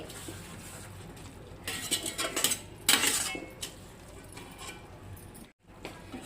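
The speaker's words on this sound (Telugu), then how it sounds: "కూర అయిపోయింది. గిన్నెలో తీసేసుకుందాము." Cooked leaf curry being scooped from the pan into a bowl, with close metallic spoon scrapes and clinks on cookware, busiest in the middle and quieter toward the end.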